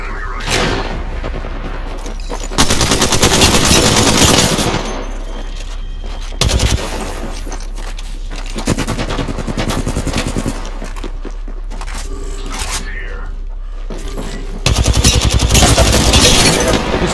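Loud, dense gunfire fills an Apex Legends arena match, with rapid automatic bursts, heavy booming shots and near-continuous volleys broken by a few short pauses.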